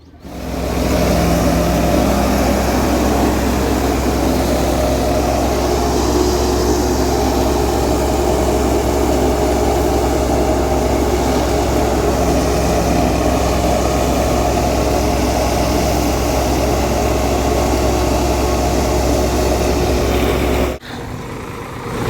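A tractor-powered wheat threshing machine runs steadily, a loud continuous low mechanical drone with engine hum throughout, cutting off briefly near the end.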